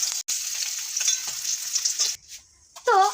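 Fish frying in hot oil for a Bengali fish curry, a bright steady sizzle close up that breaks off briefly, then returns with a short burst of clattering.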